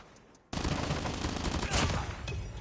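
Sustained automatic gunfire from a gun in the shooter Call of Duty Mobile, starting abruptly after a quiet moment and continuing as a dense, loud, rapid stream of shots.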